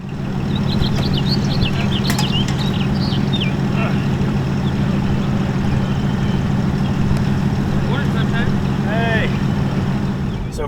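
Lifted Subaru Outback on aggressive 29-inch tires, driving with a steady engine and road drone throughout, faint higher squeaks over the rumble.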